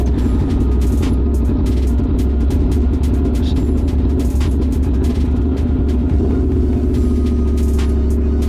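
An Aprilia Tuono V4 motorcycle with an LV Corsa carbon exhaust idles close by, a steady, deep, loud rumble that holds even throughout.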